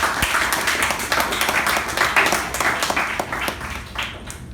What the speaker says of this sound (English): Please welcome Toastmaster Raja with a huge round of applause.